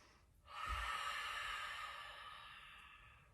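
A single audible breath during a slow, strong yoga pose with arms reaching up, a long airy exhale that rises quickly and slowly fades, close and alone with no talking.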